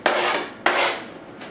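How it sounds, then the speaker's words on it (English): A utensil scrapes through garlic and onions in oil in a pan: two long, loud, raspy stirring strokes close by, then a faint third scrape, with no talking. "Now, I'm just going to stir it all around to make sure that it's mixed in with the oil"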